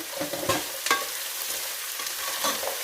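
Chopped ingredients fry in hot oil in a home kitchen, a continuous close sizzle broken by sharp spoon-and-pan scrapes and clatters as they are stirred.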